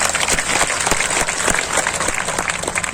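An audience at a public outreach meeting on nomadic and denotified communities bursts into loud, dense applause, a steady crackle of many hands clapping close by throughout.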